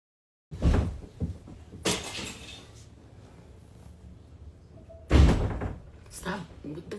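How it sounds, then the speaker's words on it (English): Two heavy door slams several seconds apart, each a loud thud with a short rattle, with quieter knocks and movement in between. "Stop it's the fucking slamming of the doors. Like all the banging, all the noise."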